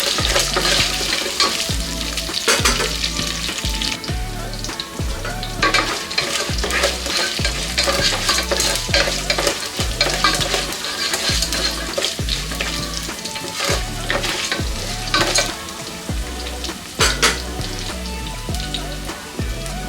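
Ridge gourd stir-fry ingredients sizzle and crackle steadily in a pan with continuous stirring and scraping, a close, dense frying sound with no voices.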